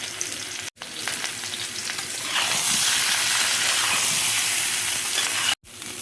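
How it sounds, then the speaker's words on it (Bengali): Potatoes fry in hot oil, a loud, steady sizzle and hiss that swells after the first couple of seconds and continues without talk, broken by two brief cuts. "আলুটা দেখো তেলের মধ্যে দিয়ে দিচ্ছি"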